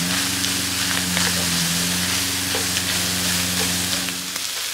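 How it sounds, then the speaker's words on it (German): Onions and bacon sizzling in fat on a grill, a loud, dense, continuous frying crackle with steady low hum beneath, alone throughout with no voices. "Mittlerweile hat der Speck dann genug Fett gelassen und ich habe die Zwiebeln dazu getan"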